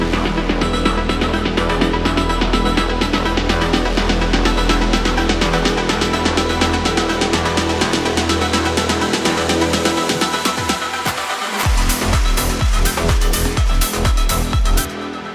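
A progressive house breakdown with a reverb-soaked, autofiltered snare roll accelerating over sustained synth chords and rising sweeps, ending in a dense fill; loud, continuous electronic music without vocals.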